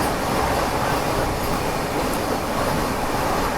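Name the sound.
Deoghar–Varanasi Vande Bharat Express train crossing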